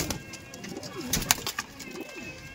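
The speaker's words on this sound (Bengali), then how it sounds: "কোয়ালিটিফুল গিরিবাজ পায়রা" Giribaz pigeons in a loft making low, repeated cooing calls close by, with fluttering and light rustling mixed through them and no clear talk.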